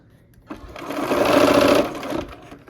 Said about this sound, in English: I'm gonna sew down this other side.